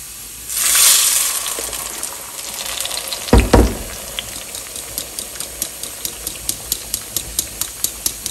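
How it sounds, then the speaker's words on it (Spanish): Tomato hits a pot with a splash of hot oil, setting off a loud hissing sizzle that eases into steady frying, with a sharp splash midway and regular light ticks toward the end; no one speaks. "En una cacerola vamos a agregar un chorrito de aceite, vamos a agregar el jitomate."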